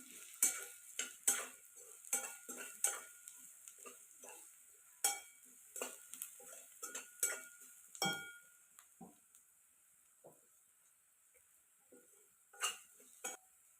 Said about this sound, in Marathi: फोडणी छान मिक्स करून घ्यायची